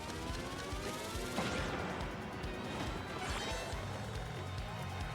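A power smash crashing through an enemy in Paper Mario: The Thousand-Year Door, a loud impact burst amid busy game music and effects, followed by another hit a couple of seconds later.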